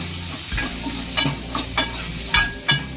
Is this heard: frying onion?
yes